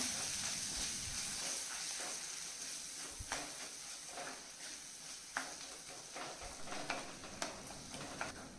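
Tomatoes mashed and sautéed over a low flame for a horse gram curry, a soft steady sizzle and hiss with a spoon scraping and tapping the pan at irregular moments, fairly quiet.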